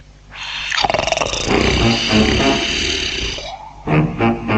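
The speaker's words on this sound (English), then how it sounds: "The wolf was snoring in his sleep" A loud, sustained rasping snore-like roar lasting several seconds, followed by a couple of shorter snorting breaths.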